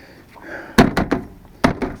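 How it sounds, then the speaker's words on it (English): The door of a 1992 Nissan pickup, fitted with a new door handle, shuts with a loud close thunk followed by a few lighter rattling knocks, then another solid slam. "I need to get some more clips with pins for those, and then you can shut the door."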